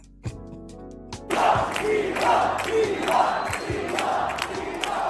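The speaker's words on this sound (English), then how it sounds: "These people are literally cheering for their own theft." A large crowd at a Trump rally erupts into cheering after a quiet start, a sustained loud roar with rhythmic swells like chanting that continues to the end.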